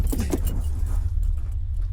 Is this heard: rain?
no